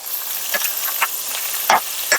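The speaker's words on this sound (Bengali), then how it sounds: "এবার আমি সিদ্ধ করে রাখা ছোলাটা এর মধ্যে দিয়ে দেব।" Boiled kabuli chickpeas dropped into spices frying in a pan give a steady soft sizzling hiss, broken by a few brief louder bursts and clatters.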